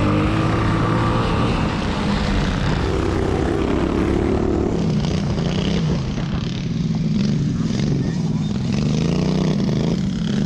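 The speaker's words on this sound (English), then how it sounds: "he is riding a Silver Fox 225cc Tillotson-powered kart" A Tillotson 225cc-powered Silver Fox racing kart engine buzzes loud and continuous, its pitch rising and falling through a backyard endurance race, with a commentator talking over it.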